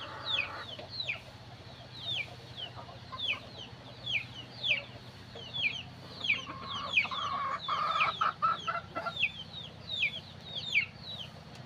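Native chickens on a small farm cluck steadily, with repeated short calls overlapping from several birds at close to moderate distance, and a few louder bursts near the middle.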